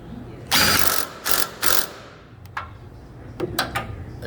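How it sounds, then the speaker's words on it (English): A Makita power tool tightens a bolt on a 1990s Nissan Sentra build in three short, loud whirring bursts close by, followed by scattered lighter ratcheting clicks. "Now I'm gonna use our Makita here and hit the next one."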